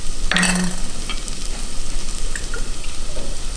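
Diced fresh turmeric and chopped green garlic fry in a hot pan, a steady close sizzle with a brief clink and scrape of stirring near the start.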